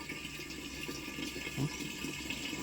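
Water runs from a tap in a low, steady gush, fairly quiet with a faint hum in the background.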